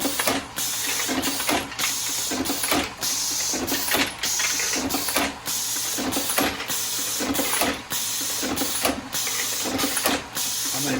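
A Lee APP press driven by a pneumatic cylinder cycles rapidly and repeatedly, each stroke giving a loud clattering mechanical clack with a brief hiss in between, in a steady rhythm of about two per second.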